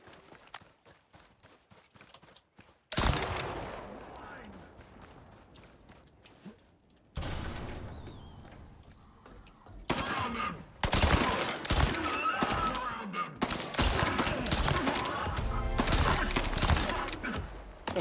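Gunfire in the survival video game Icarus: a quiet opening, then bursts of rapid shots and impacts in dense, loud stretches mixed with game sounds.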